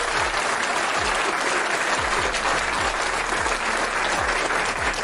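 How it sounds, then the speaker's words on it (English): Steady, loud applause fills the whole stretch as a continuous wash of clapping, with a regular low thumping repeating underneath. "Give her a round of applause."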